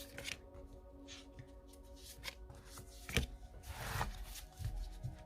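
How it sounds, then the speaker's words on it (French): Tarot cards are shuffled and drawn for a love reading, giving a soft continuous riffling and sliding of card stock with a few flicks and taps, close and quiet, over faint background hum. "On va prendre 3 cartes pour cette personne, pour voir un petit peu."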